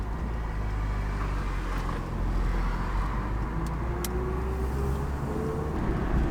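An Mk3 car engine runs steadily from inside the cabin while driving, a continuous low rumble with road noise and a couple of faint brief clicks over about six seconds.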